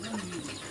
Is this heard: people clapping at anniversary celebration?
no